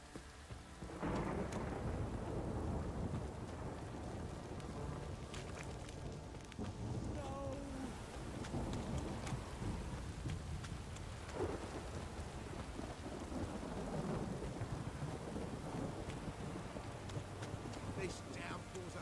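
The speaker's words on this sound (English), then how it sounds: "This downpour's a bastard" A video game thunderstorm with heavy, steady rain pouring down, broken by several deep rolling thunder crashes that swell and fade across the whole stretch.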